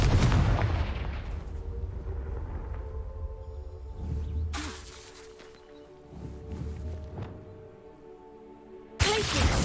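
The Confringo fire spell fires in Hogwarts Legacy, giving sharp, booming blasts at the start, again midway and at the very end, with crackling fiery rumble and lingering echoes between them.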